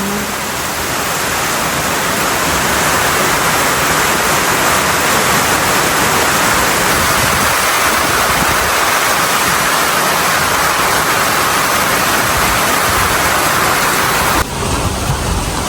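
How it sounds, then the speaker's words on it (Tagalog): Heavy rain pours down in a dense, constant roar for the whole stretch, loud and close, easing slightly right at the end. "At masyado pong malakas ang ulan."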